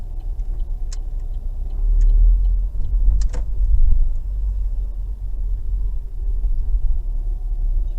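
A car driven during a driving lesson by a 10-year-old gives a steady, close, low engine rumble that swells slightly in places, with a few faint ticks and no talk.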